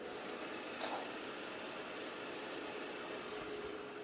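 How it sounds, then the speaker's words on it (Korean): Kia K9 sedan engine idling very quietly with the hood closed, a soft, even hum and hiss that stays steady for a few seconds with no voices. "굉장히 정숙한 엔진 소음을 만나보실 수가 있습니다."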